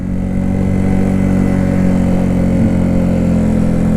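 A 1974 Honda CB125S barn-find motorcycle with a throttle fault, idling steadily at high revs with a loud, even engine drone, close by and unchanging.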